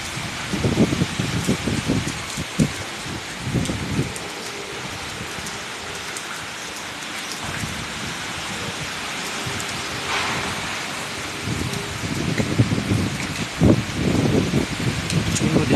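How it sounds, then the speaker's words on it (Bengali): Heavy rain pours steadily during a violent thunderstorm that is lashing the trees, with thunder cracks and rumbles bursting out near the start and again toward the end. "তার সঙ্গে বৃষ্টি হচ্ছে বজ্রপাত"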